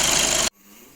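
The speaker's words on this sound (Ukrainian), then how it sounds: "Зараз вимкну двигун." A Skoda 2.0 TDI 4x4 diesel engine runs loudly with a rough clatter, then is switched off, cutting abruptly to near silence with a faint settling hum.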